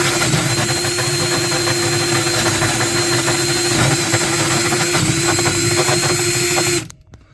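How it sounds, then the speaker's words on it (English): A power drill bores a hole in a sailboat's bilge, a loud, steady close-up whine with constant motor drone that runs without pause for nearly seven seconds before cutting off abruptly. "let's drill the hole."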